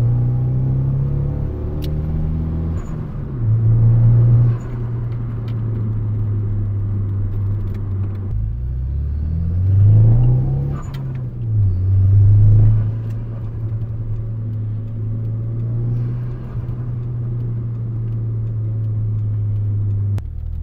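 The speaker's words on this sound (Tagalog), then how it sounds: "misfiring siya on low RPM" A Mitsubishi Eclipse engine idles and runs at low RPM with a misfire, a close, steady low rumble that swells briefly a few times as the throttle rises and falls.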